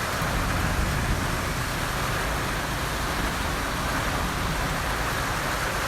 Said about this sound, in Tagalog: Dahil ngayon lang umulan mga kaibigan, maliligo tayo.